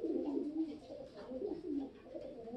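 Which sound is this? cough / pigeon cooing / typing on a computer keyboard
pigeon cooing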